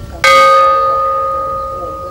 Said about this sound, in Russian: Сегодня души погибших разговаривают с нами языком колоколов.